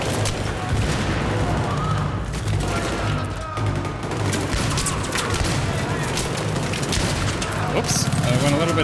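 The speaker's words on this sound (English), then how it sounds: "That man just threw a grenade." Grenade blast and combat in the Battlefield 3 video game, a dense, loud barrage of booms and gunfire that runs continuously throughout the game's sound mix.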